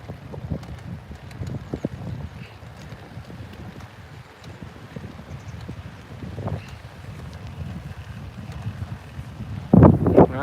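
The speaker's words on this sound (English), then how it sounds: "At this part of the journey, I've got the wind against me, which is really bad." Headwind buffets a cyclist riding in Japan, a low rumbling rush against the microphone with uneven gusts and a stronger blast near the end.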